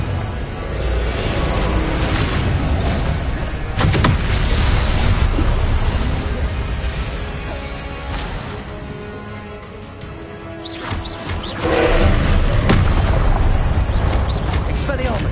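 Repeated Confringo spell blasts in a Harry Potter video game, loud booming bursts with crackling debris over a dense continuous game soundscape, with stronger hits near the start and again toward the end.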